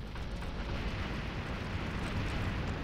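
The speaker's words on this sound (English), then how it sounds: "I'll be able to reach him with my super-duper volcano launcher." A super-duper volcano launcher fires in Earth Defense Force 2017, sending out a dense, continuous roaring blast that holds steady and loud for the whole stretch.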